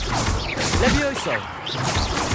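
Casting Levioso in Hogwarts Legacy brings a swirl of whooshes and a thudding magical hit, mixed with a short voiced shout from the game and continuous background effects.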